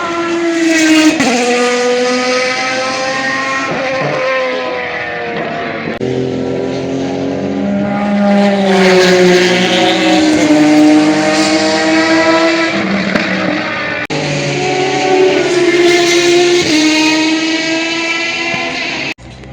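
Race cars at the Le Mans Classic, including NASCAR-style machines, roar past in loud continuous engine noise with rising and falling pitch as they pass through, several gear changes marking each car, no voices.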